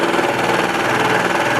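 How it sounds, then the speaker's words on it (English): A serger stitches across the width of cotton fabric for a pillowcase, giving a steady, fast mechanical whir and hum that runs unbroken and fairly loud for the whole stretch. "I'm going to run it on my serger because I have a serger"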